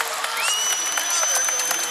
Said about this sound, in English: That gets the crowd going on the right side.